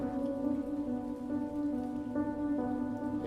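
A heavy rainstorm pours down on Skid Row in a dense, continuous wash of rain, with a steady tonal hum running beneath it and no voices.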